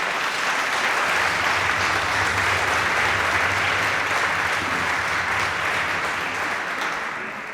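A church or parish gathering audience applauding, dense steady clapping from a crowd, loud and sustained before tapering slightly at the end.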